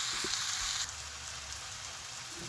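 Vegetables sizzle and caramelise in a hot pan in a Hunan-style dish, a soft, steady hiss with a faint crackle. It stays even and fairly quiet throughout, with no stirring and no voices.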